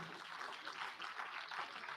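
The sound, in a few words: audience applause at quiz prize giving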